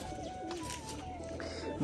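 Rajshahi pigeons coo softly against a steady background hum, with a few faint calls over a short stretch.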